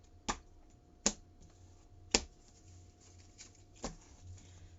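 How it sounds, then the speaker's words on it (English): A tarot deck is cut by hand, giving four quiet, sharp card taps spaced about a second apart over a faint room hush, with no talking. "So I'm going to go ahead and cut the deck."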